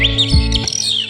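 An agitated oriental magpie-robin calling loudly and close, a quick burst of sharp squawks and whistled chirps.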